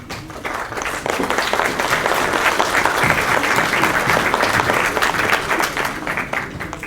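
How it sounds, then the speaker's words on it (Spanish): Audience at a forum ceremony on new transparency obligations for political parties gives a loud, sustained round of applause, dense clapping that stays steady throughout. "Nos despedimos con un fuerte aplauso."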